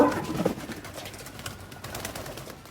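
Pigeons coo softly nearby in low, throaty bursts, with faint rustling between the calls.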